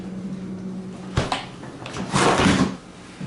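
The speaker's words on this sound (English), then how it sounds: "The fridge part on the bottom, crisper drawers." A refrigerator's bottom crisper drawer sliding open in a newer fridge, with a couple of plastic scrapes and bumps after a quiet stretch, close and moderately loud.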